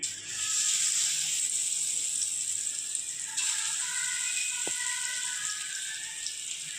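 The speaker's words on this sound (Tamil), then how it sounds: "எண்ணெய் ஊற்றி எண்ணெய் காஞ்சிடுச்சு. அது கூட நம்ம கலக்கின மிக்ஸ் எடுத்து ஊற்றிக்கலாம்." Egg pakoda batter poured into hot oil, giving a steady, close, bright hiss of frying that holds nearly unchanged throughout, with one faint tap partway through.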